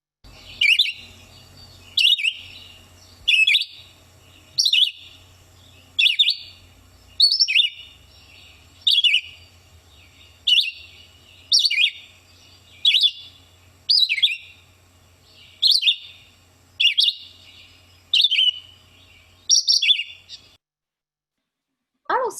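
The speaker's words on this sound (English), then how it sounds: "these birds have a clear melodic phrase that is repeated in a series" A songbird repeating one clear, melodic phrase in a steady series, about a dozen evenly spaced bursts, close and distinct over a quiet background.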